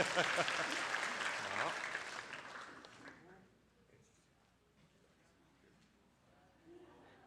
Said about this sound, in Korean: 건강하게 박수 한번 해주시기 바랍니다